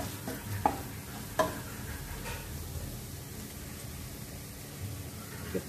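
Soya chaap masala roasts lightly in a pan, a soft low sizzle with a few quiet stirring knocks and scrapes spaced out. It stays faint and steady, with no talking.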